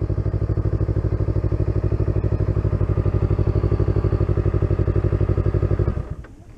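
A motorcycle engine idles nearby with a loud, rapid, steady thumping beat for about six seconds before it cuts off abruptly.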